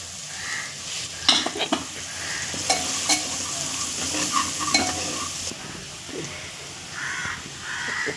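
Spices and tomatoes for a drumstick (shevga) curry are stirred and fried in a pan, with a steady close sizzle broken by several sharp spoon scrapes and clinks against the metal; crows caw faintly in the background.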